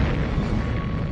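A deep, rumbling explosion effect from a documentary about an unexplained blast that flattened Siberian forest, a loud sustained low roar filling the whole moment without any voices.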